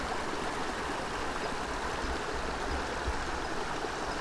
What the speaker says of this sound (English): Lovely waterfalls filling up the valley.